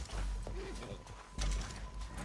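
Horse hooves clip-clop at a steady gait in Red Dead Redemption 2, fairly soft and set against a low game background hum.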